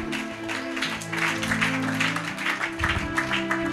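A church congregation clapping during a Bible teaching on Genesis, a brief patter of applause mixed with voices and a low sustained tone.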